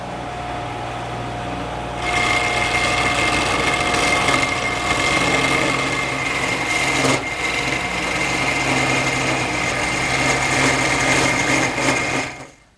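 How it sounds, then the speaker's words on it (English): A wood lathe fitted with a square carbide cutter turns a taper on a table-leg blank, its high whirring drone starting abruptly, holding steady and loud with a brief catch midway, then winding down at the end. "I've now changed the triangular cutter to a square carbide cutter, and that'll make quick work of turning the taper."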